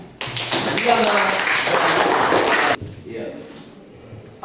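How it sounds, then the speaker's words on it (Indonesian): A Catholic religious education class gives a student a round of applause: dense, loud clapping from many hands that stops abruptly after about two and a half seconds, then quiet room sound and a voice. "tepuk tangan untuk Liana"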